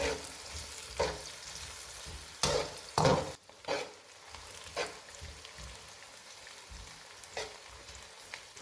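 Roughly chopped onions, four of them, fry in hot oil for a biryani, giving a steady sizzle with several sharp scraping stir strokes and clatters. It sounds close and continuous, with no talking.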